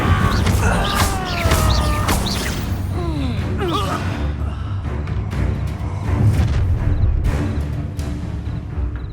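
Fiery incendiary spell blast in a Hogwarts video game, a loud roaring whoosh and crackle mixed with dense battle effects and music, with voices calling out over it.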